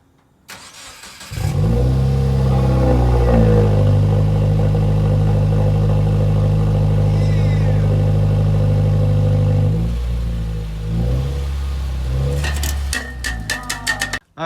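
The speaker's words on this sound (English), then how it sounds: "Now it's time to start it up." A Subaru WRX fitted with a Tomei Ti Expreme titanium exhaust cranks and fires up, then settles into a loud, close, rumbling idle with a few blips of revving near the end.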